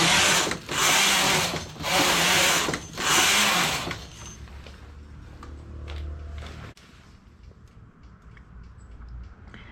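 A knitting machine carriage knitting a sailor collar sweeps loudly across the needle bed in four rapid, evenly spaced passes, then gives way to quieter mechanical clicks and handling noise.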